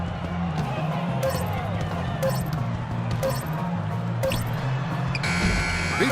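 Shot clock buzzer in NBA 2K15 basketball, a long electronic buzz closing out a play after several short tones, set over steady arena crowd noise and game commentary.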